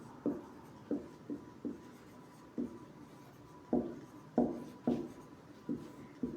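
Chalk or marker writing on a board during a physics lesson, a series of short scratchy strokes and taps in an irregular rhythm, close and moderately loud with no talking.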